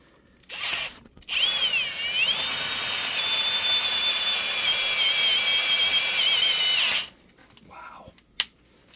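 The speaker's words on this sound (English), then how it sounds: "I turned the drill down." A power drill whines at high speed for several seconds, its pitch wavering as it bites into a broken bolt deep in a hole, then cuts off, followed by a brief clink.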